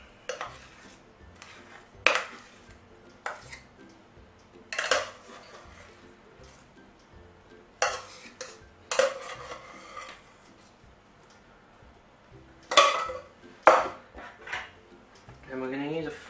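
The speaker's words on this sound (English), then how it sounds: "we're going to use a fork just to spread that mash around" A fork scrapes and taps against a dish while spreading mashed potato over vegetarian mince for a shepherd's pie, giving scattered clinks and soft scraping at close range in a quiet kitchen.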